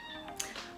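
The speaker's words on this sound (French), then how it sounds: "Mon chat est tellement collant." A house cat gives a quiet, brief meow or two indoors, soft and close, with no talking over it.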